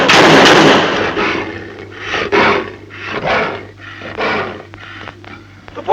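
Rapid bursts of gunfire from a 1950s science-fiction film scene, a heavy blast opening followed by a string of repeated shots echoing at irregular intervals, loud and up close with a low background hum.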